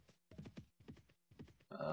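Horse hooves clip-clopping in the Mount and Blade video game, a few groups of quick hollow thuds in a galloping rhythm, faint and close, followed by a brief louder burst at the end.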